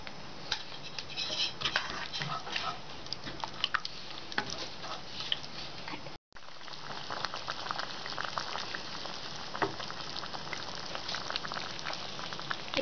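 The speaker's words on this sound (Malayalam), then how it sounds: "ഇപ്പോൾ നമ്മുടെ മുട്ടയ്ക്കുള്ള ഗ്രേവി നന്നായിട്ട് തിളച്ചിട്ടുണ്ട്" Egg curry gravy boiling in a pan, a soft continuous bubbling and popping patter heard close but faint, with a brief dropout midway.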